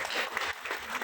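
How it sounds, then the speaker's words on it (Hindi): An audience at a women's empowerment event breaks into applause, a dense, steady wash of many hands clapping with no voices over it. "बस जोरदार तालियां हो जाए everyone."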